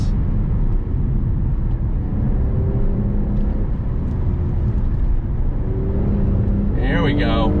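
A 2021 Infiniti Q60 Red Sport 400 coupe with a 7-speed automatic drives along, its engine a loud, steady low drone with road noise throughout, a brief higher whine rising near the end.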